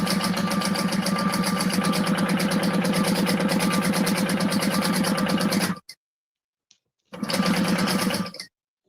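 Sewing machine stitching a Veronica Bag in steady rapid bursts, running for several seconds, stopping, then briefly starting again before falling silent.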